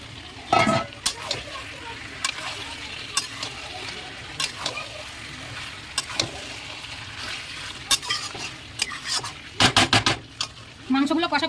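Chicken pieces frying in a pan with pre-fried potatoes added, a steady sizzle under repeated sharp clinks and scrapes of a spatula stirring against the metal, loud and close.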